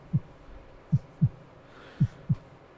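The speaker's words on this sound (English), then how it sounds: "And you hear your heartbeat." Slow, muffled heartbeat thumps, five soft low beats in uneven pairs, close and alone over a faint hiss, set as a dramatic effect in a fantasy audio drama.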